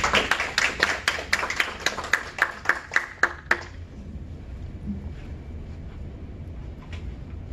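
Sparse clapping from a lecture audience in Washington greeting a Korean speaker, roughly a dozen distinct claps in a steady rhythm for three and a half seconds before it stops, leaving a quiet room.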